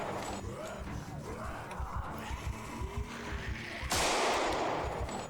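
Gunfire in the Project Zomboid zombie survival game: a rapid run of sharp shots pops in a steady rhythm, close and moderately loud, ending in a louder noisy burst.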